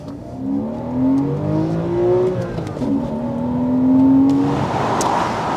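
A Porsche 986 Boxster S engine revs out loud and close, its tone climbing and falling in smooth repeated sweeps before surging higher near the end.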